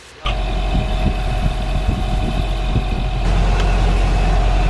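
Sailboat engine running after an overheating repair on a failed coolant hose clamp, starting abruptly and settling into a loud, steady idle drone with a rhythmic low throb, close by and without talk.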